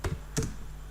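Typing on a computer keyboard: a few quick, close key taps in a short burst, with no talk during.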